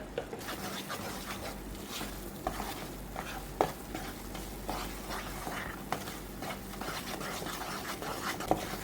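A spoon stirs and scrapes a sweet mixture dry-roasting with cardamom powder in a pan, giving soft continuous scraping with light sizzle and occasional sharper clicks of utensil against the pan, fairly quiet and close.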